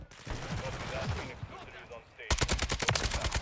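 Kastov 762 assault rifle from Modern Warfare 3, firing at a rather slow rate in a rapid, evenly spaced burst of loud sharp shots that starts abruptly after a stretch of muffled game noise with some voice.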